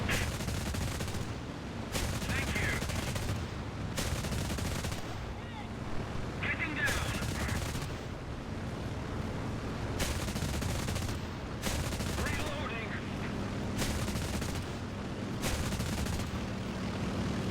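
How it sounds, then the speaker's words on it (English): Burst gunfire in a first-person shooter video game: repeated short volleys of rapid shots separated by brief pauses, loud and close, with ambient game noise between the bursts and a player talking intermittently. "So burst fire can kill these enemies."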